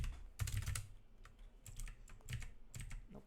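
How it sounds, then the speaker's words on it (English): Someone types on a computer keyboard while writing C++ code, with bursts of quick, crisp key clicks separated by short pauses, close and moderately loud, with no talking. "I use this keyboard."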